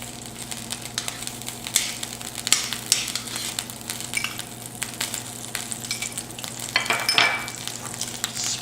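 Butter melts in an omelet pan heated over medium heat, giving a steady low sizzle with light crackling and occasional clinks as it is spread around, heard close with a faint hum underneath.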